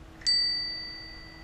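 A single bright notification bell ding strikes once, clear and close, then rings out in a long, slowly fading tone over a quiet background.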